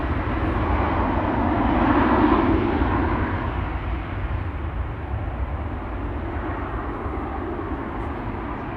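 An airliner taxis across a runway at Amsterdam Schiphol Airport, its engines making a steady, loud broadband roar that swells slightly early on and then holds evenly throughout, with no voices.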